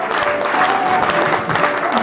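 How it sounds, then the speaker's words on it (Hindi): Applause from participants in an online team achievement meeting, a loud, continuous patter of clapping for a couple of seconds without speech. "शायद तालियां तो बजती रहनी चाहिए, मुझे ऐसा लगता है।"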